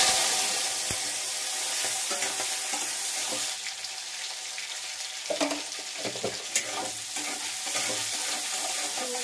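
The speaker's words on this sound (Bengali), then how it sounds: "তেল দিলাম, তেজপাতা শুকনো লঙ্কা দিলাম, এই রাঁধুনি দিলাম, চিংড়ি" Bay leaf, dried chilli, radhuni and prawns sizzle steadily in hot oil, a dense broadband frying hiss with occasional stirring clatter and a few sharper pops near the pan.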